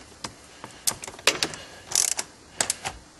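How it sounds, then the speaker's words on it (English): Ratchet wrench snugging a ground bolt during a car radar detector install, a series of crisp close clicks in short irregular bursts with no talk. "We got finger tightening, and we're just going to put a little more torque on it."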